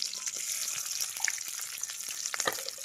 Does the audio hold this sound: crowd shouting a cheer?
no